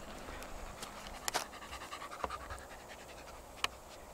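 A dog pants steadily outdoors at a low level, with a few brief clicks and taps scattered through the soft breathing.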